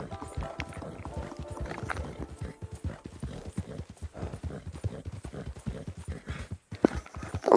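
Horse hooves gallop in Red Dead Redemption 2, a fast, rhythmic clip-clop of a quick mount repeating steadily up close, with game ambience behind and no talk.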